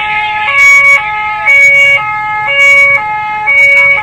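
Ambulance siren wailing in a two-tone pattern while stuck in a traffic jam on a road blocked by protesters, loud and close, switching pitch every half second with steady road noise beneath.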